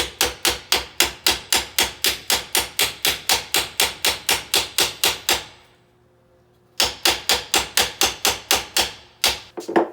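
A hammer taps dowel pins into a Porsche 996 transmission case during final assembly, a long run of sharp, evenly spaced metallic knocks, then a short pause, then a second quick series of close, loud strikes.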